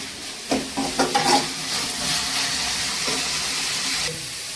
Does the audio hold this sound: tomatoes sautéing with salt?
yes